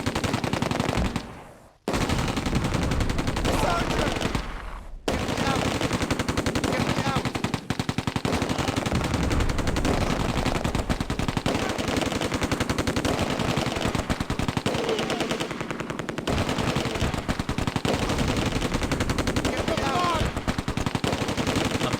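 Machine gun fire from half-tracks in the Close Combat video game: rapid, continuous loud bursts that keep going with only brief pauses. Voices shout over the shooting now and then.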